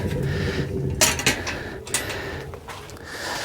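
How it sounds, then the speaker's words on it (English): A lid is set on a pan holding a Papa Murphy's cowboy pizza cooking on a wood stove, giving a couple of close metallic clanks over a steady background hiss. "I'm going to put a lid on top also"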